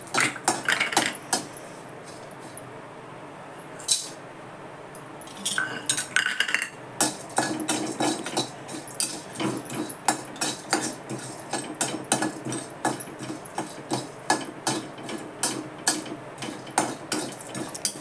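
Whole spices for homemade garam masala, including stone flower and cinnamon, being stirred and dry-roasted in a hot pan, giving steady metallic scraping and clinking of a spoon against the pan, close and moderately loud, with no talking.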